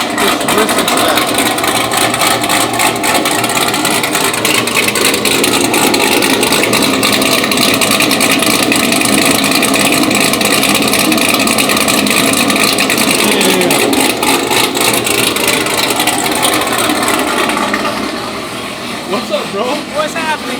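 A loud, rough tuned V8 engine of a 900-horsepower Camaro ZL1 idles close by with a steady, lumpy rumble that eases off slightly near the end.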